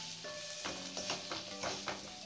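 Red chili powder, coriander powder and cumin powder roast briefly in a pan, a soft, low sizzle with faint scraping stirs, quiet and close.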